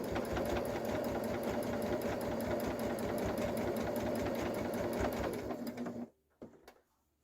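A Janome Jazz 2 sewing machine runs continuously at close range while stitching a patchwork zipper pouch, its steady mechanical buzz lasting about six seconds before halting, followed by a few faint clicks.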